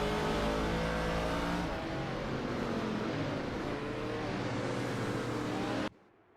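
Race car engines, including a Porsche, roar in a Group 6 racing video game as several layered engine tones whine and shift together, loud and continuous, before cutting off abruptly.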